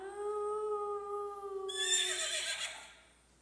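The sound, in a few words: horse neighing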